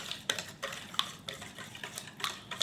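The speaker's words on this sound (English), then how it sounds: "you should mix this well about 2 minutes until all these ingredients, including sugar, is well incorporated" Carrot cake muffin batter with sugar, vanilla and cinnamon is stirred, a spoon tapping and scraping the bowl in a quick, fairly regular rhythm, faint and close.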